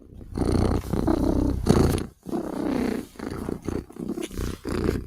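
A cat purring loudly and close up, a deep rumbling purr in long rhythmic bursts separated by brief pauses as it breathes in, steady and dominant with no talking.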